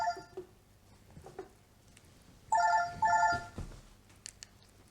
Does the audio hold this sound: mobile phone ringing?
yes